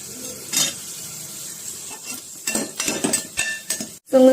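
Onions, green chilies and cashews sauté in ghee with a soft sizzle, interrupted by clinks and scrapes of a spoon against the pan, louder bursts of stirring near the end.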